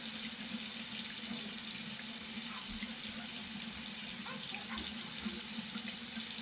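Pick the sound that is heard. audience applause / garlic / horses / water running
water running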